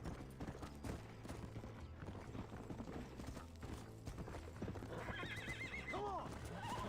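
In Red Dead, a horse's hooves clip-clop at a gallop beneath music and game noise, then the horse gives a clear whinnying neigh near the end. Speech is heard over it.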